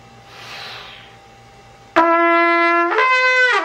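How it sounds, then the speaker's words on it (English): A soft breathy rush, then a bright sustained brass tone that jumps upward to a higher harmonic partway through, played up close. "you want to just gliss through the internal harmonics, like this."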